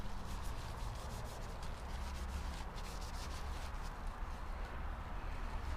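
Citra wax rubbed onto a cocobolo wood pen, likely spinning on a lathe, giving a continuous steady friction hiss with a low motor hum underneath; no speech.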